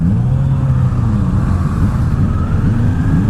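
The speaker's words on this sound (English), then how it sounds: "Damn, that clutch slip." A 2019 Kawasaki Z400 motorcycle revs steadily with its clutch slipping, a loud, sustained engine drone whose pitch slowly rises and falls, heard up close and continuous.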